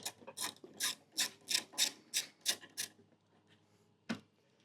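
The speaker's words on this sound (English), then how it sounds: "we've got ourselves a 10mm socket. We're just going to undo this one here" A ratchet fitted with a 10mm socket undoes a bolt on a Toyota Prado 250 car guard, giving a quick series of about eight rhythmic clicking bursts close up, then a pause and one last click.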